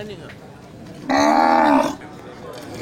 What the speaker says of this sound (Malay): Ya, ini sapi simental ya. Simental indukan lengkap dengan pedenya.